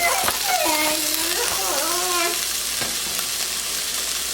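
Onion dropped into a hot pan for creamy herb mushroom chicken, hissing in a loud, steady sizzle close by, with a voice speaking briefly over it.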